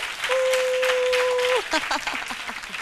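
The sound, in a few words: audience applause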